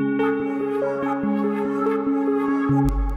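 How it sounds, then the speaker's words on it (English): A tubular bell plays a short melodic accent, each strike ringing out with repeating delay echoes and a reverb tail, clear and alone in a beat-production setting. "it's just a little tubular bell with some delay and some reverb on it"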